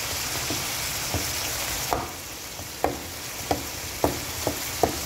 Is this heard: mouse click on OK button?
no